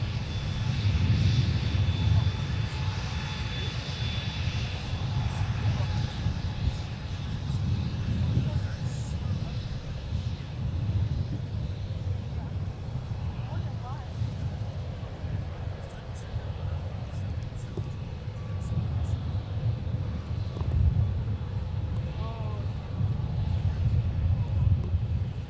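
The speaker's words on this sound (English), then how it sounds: "it's time to check up on our Boeing 717-200, taxiing on Whiskey to runway" A Boeing 717-200 airliner taxiing on a taxiway toward its runway at Minneapolis–St. Paul airport, its engines giving a steady, fairly loud low roar with a whining hum above it that holds throughout.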